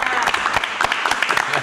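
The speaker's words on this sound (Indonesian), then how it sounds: "Tapi sekali lagi tepuk tangan trailer di sini." A short burst of audience applause at a live event, dense clapping with a few sharper hits, overlapped by people talking.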